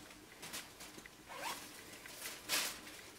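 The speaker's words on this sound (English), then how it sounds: "the zipper on the back" A zipper on the back of a suit skirt is drawn in a few quick rasping pulls, close and quiet, with one louder final zip near the end and no talking.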